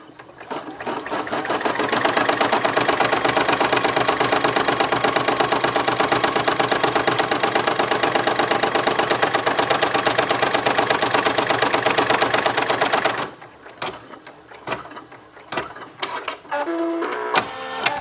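A Brother PE770 embroidery machine stitching a custom patch, a loud, fast, steady mechanical whir of needle strokes lasting about thirteen seconds, then stopping into quieter clicks and handling noises.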